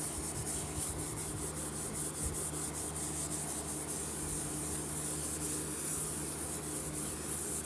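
Continuous close rubbing of a Brasso polishing pad over scratched plastic on a 2010 MacBook, a steady broadband scouring hiss with no talk.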